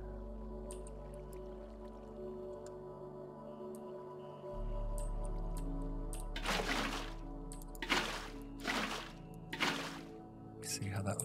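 Water flowing in Minecraft, swelling into several broad rushing surges in the second half over a steady backdrop of sustained tones.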